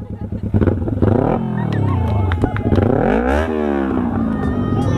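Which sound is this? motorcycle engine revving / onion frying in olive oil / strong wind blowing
motorcycle engine revving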